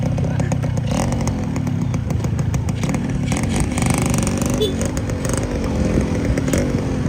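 A Yamaha motorcycle rides along a road during a wedding procession, its engine droning steadily and loudly up close throughout, with rough mechanical rattle and no pauses.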